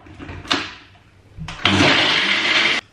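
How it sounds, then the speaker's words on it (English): A countertop blender whirs a smoothie of plant milk, protein powder and raw cacao, with a short clunk and brief pulse before a loud, steady motor roar that runs for about a second and then cuts off. "And let's blend it up."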